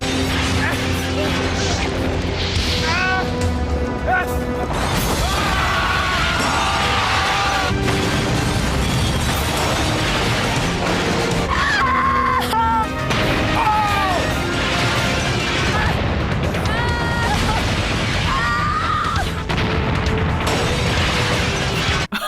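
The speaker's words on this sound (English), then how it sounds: "We got people on fire and flying off of railings, multiple explosions." Explosions, crashes and fire stunts from a Baywatch-style action TV show, with dense booms, smashes and pops piled over a loud, continuous music-and-effects mix that runs without letup.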